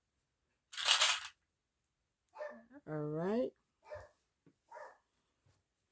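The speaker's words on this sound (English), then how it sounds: "I do apologize for the dog barking." A dog barks once, sharply and loudly, near a fabric sewing session, followed by a person speaking briefly with some quieter sounds after.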